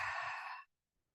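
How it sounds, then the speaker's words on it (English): A single long, breathy exhale during a gentle yoga session, soft and close, fading out after about half a second into quiet. "Exhale it out."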